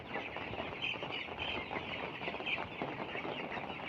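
A flock of chickens feeding on vaccine-treated feed, giving a dense, continuous chorus of overlapping clucks and soft calls at moderate loudness, close by and without talk.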